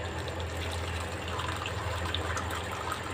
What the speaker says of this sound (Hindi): ये ऐसे ना आपने सारा इसको छान लेना इसी बाउल के अंदर।